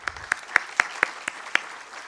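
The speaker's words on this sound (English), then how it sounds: "So I think we should give ourselves a big round of applause." Sparse, evenly spaced claps ring out at a brisk, regular rhythm, about eight distinct hand claps from a small audience at a conference on ending polio, each one crisp and fairly close.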